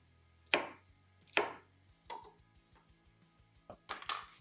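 A food processor rough-chopping ingredients for Philly cheese steak spring rolls, heard as a few sharp separate chopping thuds spaced about a second apart, then quicker clustered knocks, close and without talk, over a faint low hum.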